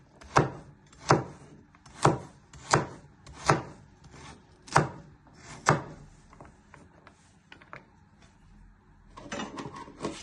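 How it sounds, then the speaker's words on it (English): Carrots are chopped with a knife on a board in a steady run of about eight firm, evenly spaced thuds, close by, then a softer scraping shuffle at the end. "So slice it into 4 and then just chop them."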